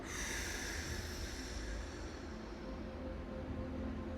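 A slow, soft exhaled breath during a relaxation exercise, a faint airy rush that tapers off gradually over a few seconds in a quiet room.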